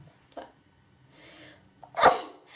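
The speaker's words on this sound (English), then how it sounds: "I'm gonna sneeze a lot." A woman sneezes once, a short sharp burst preceded by a faint catch of breath, close to the microphone in an otherwise quiet room.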